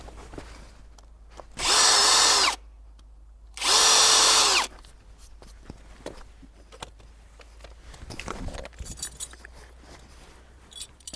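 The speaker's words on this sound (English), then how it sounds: "I'm going to deepen these pilot holes." Power drill deepening pilot holes in a wooden garden gate, two loud bursts of about a second each separated by a short pause, followed by quieter clinks and handling.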